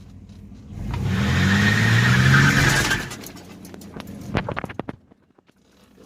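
A 1993 Chevrolet S10 pickup with a 4.3 engine, parked for 20 years, rumbles nearby as it backs up. The engine swells for a couple of seconds, then fades into scattered clunks and crunches.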